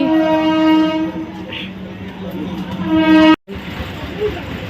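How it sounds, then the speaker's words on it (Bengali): A train rumbles past with a sustained horn blast, followed by a steady rolling noise of the wagons. "ট্রেন যাচ্ছে ওই"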